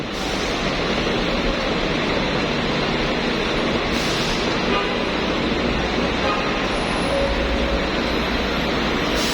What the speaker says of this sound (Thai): นี่คือบรรยากาศข้างนอกสนามบินเอเธนนะคะ วุ่นวายพอสมควรนะคะ